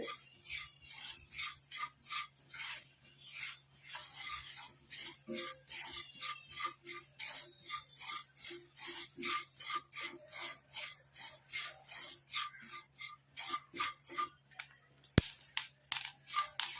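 A hair-dye mixture with coffee powder being roasted and stirred in a pan: steady, repeated dry scraping strokes in a quick, even rhythm, close by, over a faint constant low hum, with no talking.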